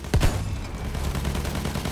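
Gunfire from above in the game Battlefield 1: one sharp, loud burst of shots near the start, followed by a dense rumbling bed of distant battle noise.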